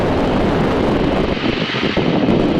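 A de Havilland Tiger Moth biplane taxis up the runway, its engine a loud, steady droning rumble heard close up with buffeting wind on the microphone and no pause.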